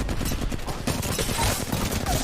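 Rapid gunfire in the video game Apex Legends, dense bursts of shots in quick succession, loud and continuous throughout.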